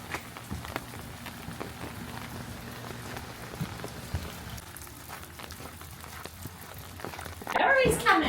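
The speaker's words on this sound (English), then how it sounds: "This rain is insane." Heavy rain patters steadily on nearby surfaces at an inn, a dense continuous wash with scattered drip clicks, and a louder splashing burst near the end.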